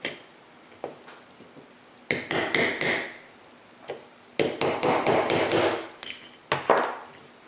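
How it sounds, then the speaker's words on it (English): A trigger part is hammered on a wood block while a trigger bar is installed: several bursts of sharp, close metallic hammer strikes in quick rhythmic runs, separated by a few lone taps and brief quiet gaps. "Or you can just hammer it directly into the wood if you have a wood block."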